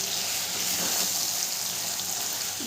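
Beans fry in a pan after mustard, poppy seed and green chilli paste go in for a Bengali sim paturi, a constant close hiss and sizzle with no breaks and no voices.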